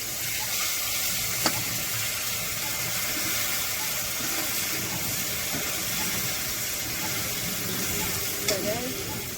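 A ground mustard and garlic paste with coriander powder, turmeric, chili powder and salt fries in a pan for a rupchand fish curry. It gives a steady, close sizzle throughout, with occasional light clinks from stirring.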